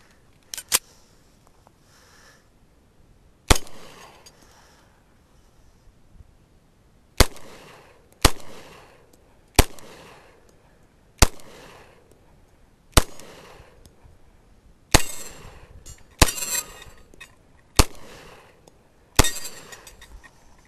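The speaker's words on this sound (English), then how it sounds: "Let's shoot some 10mm at it." Sharp 10mm pistol shots, PPU and Armscor rounds, strike steel targets outdoors: about a dozen loud reports with ringing metallic clangs, spaced irregularly, some in quick pairs, with quiet gaps between.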